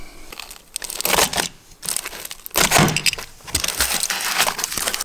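A protective wrapper is cut away from the throttle of a folding mini two-seater golf buggy. Close crinkling and crackling comes in several loud bursts, with short quiet gaps between them.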